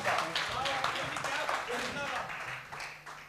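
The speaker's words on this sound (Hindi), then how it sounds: "एक बार जोरदार तालियां हो जाए पीयूष शर्मा जी के लिए" An audience at a shayari poetry event at Lovely Professional University applauds poet Piyush Sharma, a steady wash of clapping running under a voice that speaks over it.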